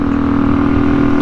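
Kawasaki KLE500 adventure motorcycle, freshly rebuilt and out on its first ride in 14 years, holds a loud, steady engine drone at constant speed with a strong low hum and no talking over it.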